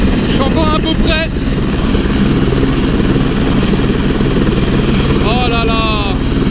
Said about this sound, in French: Il y a entre l'hélicoptère et moi 10 mètres.